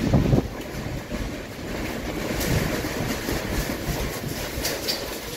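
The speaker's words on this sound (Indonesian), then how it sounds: "Beginilah saat angin puting beliung melanda kawasan Pasar Impres, Kota Takengon yang terekam oleh handphone warga di lokasi" A tornado sweeps through the Pasar Inpres market area of Takengon in Aceh Tengah, Indonesia, recorded on a phone: a steady, loud roar of wind that buffets the microphone continuously, with no speech.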